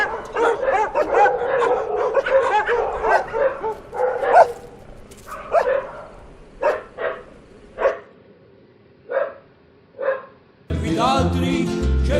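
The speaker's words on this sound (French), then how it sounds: "les aboiements de chiens à proximité ou au loin" Dogs bark repeatedly on a Corsican holiday, some close and loud, others fainter and farther off, in irregular bursts and single yips with quiet gaps between, then a burst of broadband noise at the end.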